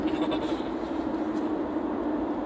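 A pack of goats in a video game gives off a dense, continuous chorus of bleating that is loud and close for a couple of seconds.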